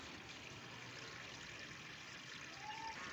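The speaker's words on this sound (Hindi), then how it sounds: "पानी दरमियान में डालो," Water trickling and pouring steadily into a cement mix being prepared outdoors, a soft continuous splashing stream at moderate distance with no talk over it.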